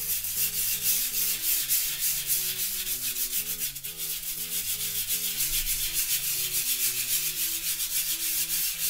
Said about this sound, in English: you want all that dirt to get loose as you're scrubbing at the same time.